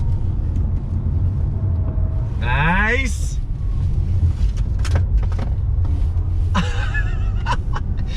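Porsche Taycan 4S electric car (2020) cornering hard on a track, with a steady low road rumble and brief rising whine and tire noise, under occasional talk and laughter.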